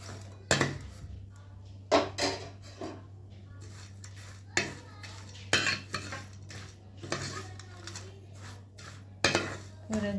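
A spoon clinks and scrapes repeatedly against a metal pot while vermicelli and nuts are stirred into sweetened milk for sheer khurma, with sharp intermittent knocks over a low steady hum.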